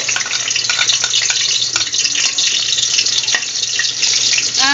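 Garlic and onion frying in a generous amount of cooking oil, a continuous loud sizzle with scattered crackles and stirring scrapes close by.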